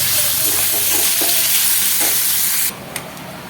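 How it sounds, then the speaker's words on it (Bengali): Vegetables, carrot and potato, frying in a pan with crushed peanuts and salt for chow mein: a loud, constant close sizzle with occasional stirring, which drops away abruptly near the end. "দিয়ে ভালো করে এটা ভাজবো"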